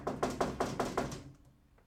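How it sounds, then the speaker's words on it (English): Five firm knocks on a wooden door in a steady even rhythm, close and fairly loud, then a short quiet tail with a couple of faint ticks. "I'm going to knock."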